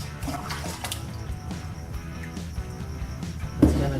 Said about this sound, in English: put a little of this hot water in